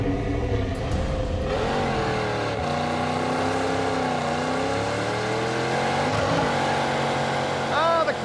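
A Pontiac Trans Am with a slipping clutch and a dead flywheel revs loud and close. The engine drone rises and falls steadily without catching, and voices can be heard faintly underneath.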